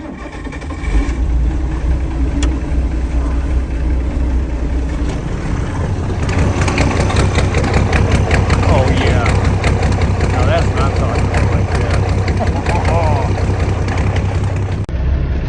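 A 1978 International 986 tractor, naturally aspirated and fitted with a straight pipe exhaust, cranks and fires up, then settles into a loud, close, throbbing idle with a rough, rapid exhaust pulse.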